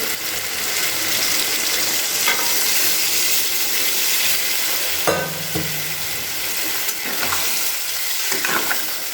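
Water poured into cauliflower and potato masala frying in a pan, bursting into a loud, steady sizzle with hissing steam and a few scraping stirs, no voices.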